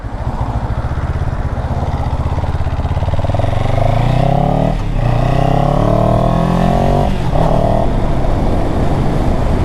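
A 2022 CFMOTO 700CL-X motorcycle accelerates hard, its engine note climbing through the gears in rising sweeps with brief dips at each shift. It is close and loud, and no one speaks.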